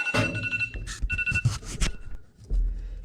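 Telephone ringing in a farm shop, a repeated electronic ring tone in short bursts, fairly close, over clattering background noise.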